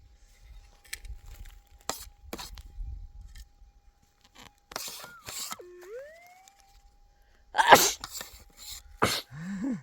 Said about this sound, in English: What's with you sneezing?